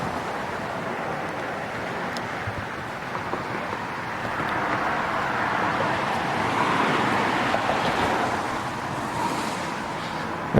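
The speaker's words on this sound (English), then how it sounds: "besides the passing cars on that road behind me." Steady traffic from cars passing on a fairly busy road near Goatman's Bridge in Denton, Texas: a continuous broadband rumble that swells a little midway, with no one talking.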